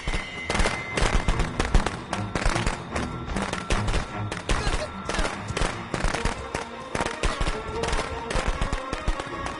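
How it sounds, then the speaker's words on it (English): Fireworks crackle and pop in the video game Friday the 13th, a dense, continuous barrage of sharp rapid bursts like a fusillade, loud and close throughout. "And fireworks."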